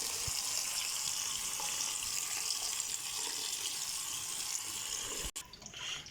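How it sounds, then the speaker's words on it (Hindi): Cold water poured from a tap over strained spaghetti, a steady hissing splash that runs unbroken and then stops abruptly near the end. "अभी मैं इसके ऊपर जो है ना ये ठंडा पानी डालने लगा हूँ।"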